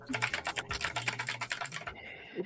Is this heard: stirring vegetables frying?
no